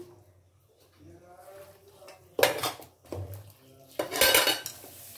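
Mutton being mixed with turmeric powder in a metal pot, with soft scraping at first, then bursts of loud clattering and spoon-on-pot knocks, with faint voices in the background.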